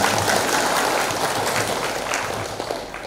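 An audience claps at a hajj rehearsal gathering, a dense continuous wash of applause that holds steady for about three seconds and then slowly tapers off.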